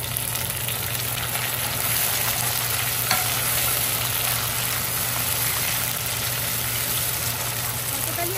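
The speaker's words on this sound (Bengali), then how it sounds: "পেঁয়াজটা ভাজা হয়ে গেছে, এবার টমেটোটা অ্যাড করে দিচ্ছি।" Chopped tomato frying with browned onions in a large pot of khichuri, a dense continuous sizzle with an occasional stir, and a low steady hum underneath.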